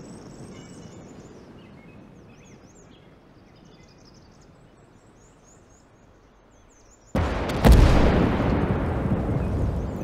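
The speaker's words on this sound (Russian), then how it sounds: "Еще парочку раз надо еще пострелять." A heavy artillery gun fires in the WWII strategy game Call to Arms: Gates of Hell: after a quiet stretch of faint battlefield ambience, one loud, booming blast hits and its rumble rolls on to the end.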